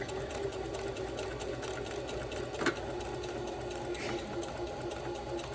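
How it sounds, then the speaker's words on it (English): A sewing machine runs steadily, stitching along the outline of elastic on fabric that is being made into fringe, with a continuous close mechanical whir throughout and one brief louder clack partway. "I'm stitching on the outline of the elastic."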